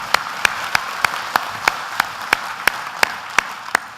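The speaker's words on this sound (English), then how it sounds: "we should have clapped then" Applause at a graduation ceremony for electrical engineering students, a crowd clapping steadily over a hall wash while one sharp, evenly spaced clap stands out above the rest.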